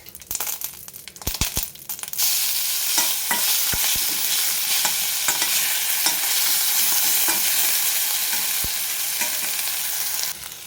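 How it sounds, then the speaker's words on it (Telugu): Mustard seeds, cumin and pieces of dried red chilli hit hot oil in a tempering for a cowpea pod curry, bursting into a loud, steady sizzle after a few sharp pops and clatters, with scattered crackles continuing throughout. "ఆవాలు కొద్దిగా జీలకర్ర ఒక రెండు ఎండుమిరపకాయ ముక్కలు వేసి వేయిద్దాం"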